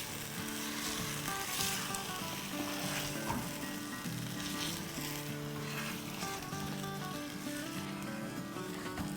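Pasanday meat sizzles in a pan while being stirred, a quiet, continuous frying hiss over a bed of tonal background music, with no audible speech.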